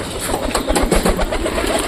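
Pet pigeons coo briefly as they settle down in the morning, short soft calls close by over a low mechanical hum.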